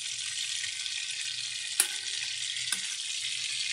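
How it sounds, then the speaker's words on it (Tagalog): Chicken legs and thighs fry in a small amount of oil, a steady close hiss and crackle with a couple of sharp pops. "Antayin na lang natin maluto yung ating fried chicken."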